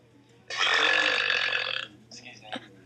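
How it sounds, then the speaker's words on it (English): One long, loud burp lasting over a second during a burping contest between friends, followed by a few faint, brief mouth noises. "we're gonna do a burping war"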